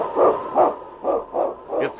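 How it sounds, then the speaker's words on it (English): A lead sled dog barks in an old radio drama, giving five evenly spaced, full-throated barks in quick succession. The sound is close and loud but has a narrow, muffled broadcast tone. "It's King, swiftest and strongest lead dog of the North Country"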